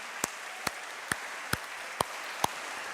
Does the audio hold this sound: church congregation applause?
yes